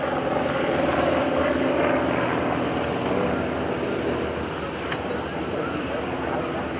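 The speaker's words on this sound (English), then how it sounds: "We also have David Windmiller getting ready to go with his airplane here." A steady propeller aircraft engine of an RV airplane at the Greenwood Lake Airshow drones at moderate distance, holding an even roar throughout without any voices.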